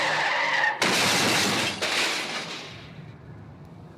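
A car drives up onto a sidewalk and goes out of control in a radio-drama sound effect: a loud skid and a crashing smash come in two abrupt bursts, then fade into trailing rumble.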